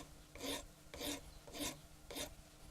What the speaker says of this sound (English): So the next thing to do is to file this flat to an angle, which is going to form the cutting edge.